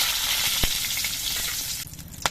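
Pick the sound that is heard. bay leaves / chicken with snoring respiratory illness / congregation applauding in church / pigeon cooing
bay leaves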